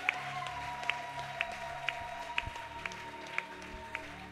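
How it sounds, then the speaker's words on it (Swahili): A church congregation at an all-night prayer vigil in Iyunga claps for Jesus, sharp claps ringing out at a steady, roughly half-second rhythm over a low murmur and a sustained musical drone in a reverberant hall. "Pigia Yesu makofi."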